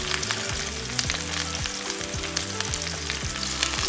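Boerewors sausage sizzling and frying steadily in a pan, a dense continuous crackle with close, even bubbling and no voices.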